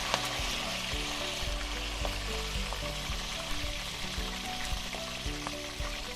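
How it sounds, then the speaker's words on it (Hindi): Broccoli fries lightly in a pan with a continuous close sizzle, broken by occasional clicks of stirring, and no voices. "इसको हमें ज़रा सा फ्राई करना है"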